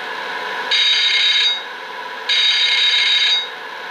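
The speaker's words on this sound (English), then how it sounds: "It kind of sounds like an alarm clock, an old alarm clock going off" A buzzing horn on an MTH RailKing Brill semi-convertible Christmas trolley, a model train, sounds twice, each blast about a second long with a short gap between, steady and close, rattling like an old alarm clock going off.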